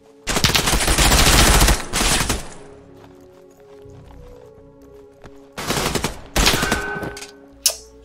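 Loud bursts of rapid gunfire in the tactical shooter Ground Branch, a long sustained volley opening, then quiet stretches before two more close, sharp bursts and a final single report.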